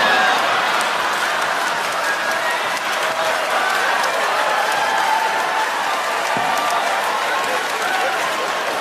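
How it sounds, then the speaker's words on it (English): A Dave Chappelle stand-up comedy audience breaks into sustained applause and cheering, a loud, unbroken wash of clapping and crowd noise that holds steady throughout. "Notice the thunderous applause. The audience is clapping and cheering"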